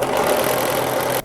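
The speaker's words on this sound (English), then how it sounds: "So we're just going to sew this little tiny spot at the bottom from the bottom edge up to our marking." Sewing machine stitching a short seam on a dressmaking project, a loud, steady mechanical whir close by that runs continuously for about a second before stopping abruptly.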